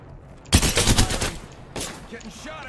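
Rapid burst of gunfire from a turbocharged weapon in Apex Legends, loud and close, a dense volley of shots followed by a shorter second burst.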